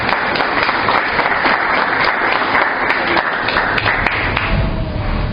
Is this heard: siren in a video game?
no